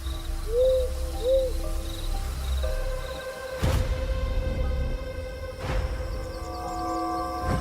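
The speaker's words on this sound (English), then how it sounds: "the unmistakable call of the barred owl echoes" A barred owl calls at night in a tropical hardwood hammock, with a few soft hoots early on, set against a steady chorus of crickets and insects and an occasional distant rumble.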